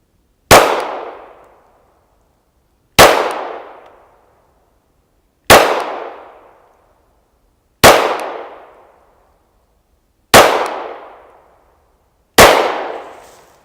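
Six single shots from a Glock 43 single-stack pistol fired at a target, each a sharp loud crack with a short decaying ring, spaced evenly about two and a half seconds apart, no voices.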